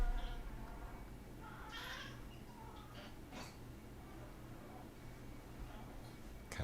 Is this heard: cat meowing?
yes